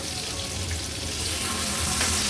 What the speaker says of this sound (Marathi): आपण एक बाजू तळत ठेवली होती आता ही तुकडी पलटून घेऊया